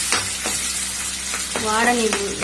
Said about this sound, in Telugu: కాసేపు ఫ్రై చేయాలి.